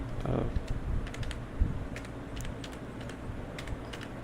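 Typing on a computer keyboard while entering an author name in Microsoft Word: a steady run of light, quick key clicks over a low background hiss, with no speech.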